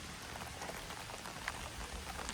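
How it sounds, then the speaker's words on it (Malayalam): Steady, even rain falls outdoors near a downhill coaster in Germany, a soft continuous hiss with scattered faint drops, fairly quiet and without voices. "ഇപ്പം മഴ പെയ്യണ്"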